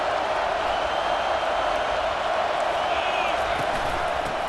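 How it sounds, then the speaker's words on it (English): Steady, dense roar of a stadium crowd cheering at a college football video game, a constant wash of voices with no clear peaks, heard close and loud throughout. "this crowd trying to help keep them there"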